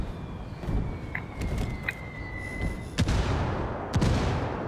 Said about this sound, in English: I'm mortaring right there.